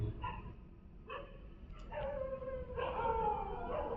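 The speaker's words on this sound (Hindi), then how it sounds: "कुत्ते भौंक रहे हैं भयानक तरीके से" Dogs barking and howling at night somewhere beyond the camera, drawn-out harmonic calls rising in several overlapping bursts over a steady low rumble, fairly distant, with no talk.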